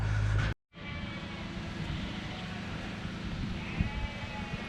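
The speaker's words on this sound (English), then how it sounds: "Just past a big sheep shearing session going on." Sheep bleat at a large shearing session beside a hill road in a valley, against a steady outdoor rumble, with one brief break in the sound early on.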